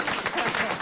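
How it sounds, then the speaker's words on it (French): A studio audience breaks into applause at a comedy joke show, a brief burst of dense clapping with some crowd noise, fairly loud and steady throughout. "Non, n'applaudissez pas,"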